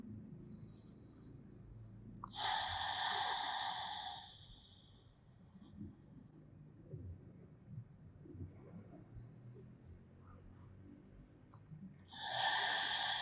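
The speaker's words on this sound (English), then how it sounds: "Just listen to your breath." Slow, soft breathing during a quiet Pilates relaxation: a long exhale, then near silence before the next breath, close and faint.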